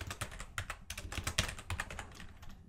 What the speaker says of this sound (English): let's press play and let's start typing in our data